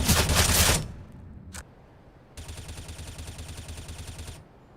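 Suppressed M4A1-S rifle fire in the shooter game CS:GO: a dense burst of rapid shots at the start, a lone crack, then a longer steady stream of quick muffled shots, moderately loud with no talking.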